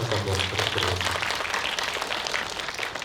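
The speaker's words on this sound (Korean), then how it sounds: "큰 박수 한번 부탁드리겠습니다" Audience applause at a film festival guest event in Busan, a moderate wash of clapping under a speaking voice at the start, continuing steadily to the end.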